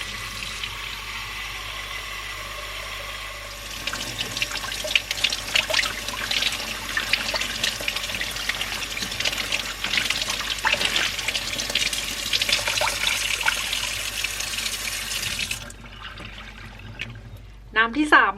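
Water is poured to boil brain mushrooms: a steady, close trickling pour runs for about twelve seconds, then stops abruptly, with a voice faintly present at times.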